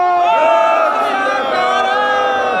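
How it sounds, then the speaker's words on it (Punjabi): A large crowd at a farmers' union gathering at the Sudhar toll plaza roars the Sikh jaikara Sat Sri Akal in unison, a loud, sustained collective shout filling the whole clip. "ਤੁਹਾਡੇ ਵੱਲੋਂ ਇੱਕ ਜਕਾਰਾ ਹੋਵੇ, ਬੋਲੇ ਸੋ ਨਿਹਾਲ"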